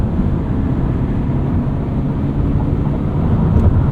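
Steady low road and engine rumble inside a 2024 Subaru Impreza RS cruising on the highway, a dense, even droning hum with no distinct events.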